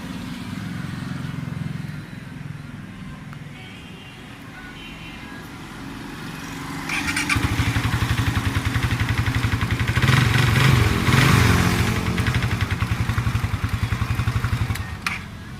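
A Suzuki Raider 150 Fi motorcycle, repaired after a no-start, no-power fault, runs in a workshop. Its engine idles, then picks up into a louder, steady mid-pitched running note with some clatter, close to the listener, and no talk.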